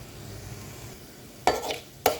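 Fennel and fenugreek seeds crackle in hot oil as the tempering for a fish curry, two sharp bursts of sizzle standing out over a low steady frying hiss.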